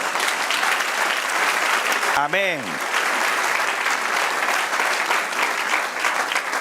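A church congregation claps in a dense, continuous roar of applause. A single voice calls out briefly in the middle.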